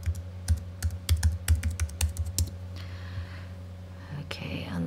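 Someone types a password on a computer keyboard, a quick irregular run of crisp close key clicks lasting a couple of seconds, then quieter rustling and a soft click as the typing stops.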